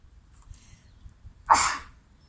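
A single sharp sneeze bursts out close by after a few quiet seconds, then trails off into a breathy exhale.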